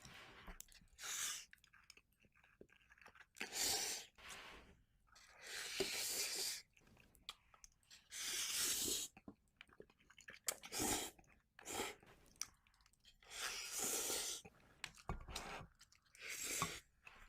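Someone eats Ukrainian-style ramen made with plenty of ingredients and mayonnaise, giving close, loud, wet chewing and slurping in repeated bursts with short pauses between mouthfuls, no talking.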